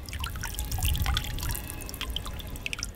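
Water runs and drips off the edge of a curved glass cast outdoors, giving a steady soft trickle with many scattered bright droplet ticks and a low rumble underneath.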